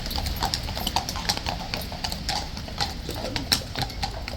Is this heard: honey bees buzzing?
no